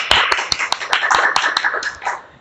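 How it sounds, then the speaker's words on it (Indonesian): Clapping from a small group, roughly a dozen sharp claps in an uneven rhythm, close and fairly loud, trailing off after a couple of seconds. "Tepuk tangan lagi dong"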